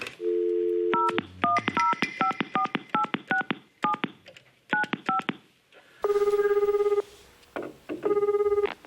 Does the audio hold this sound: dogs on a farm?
no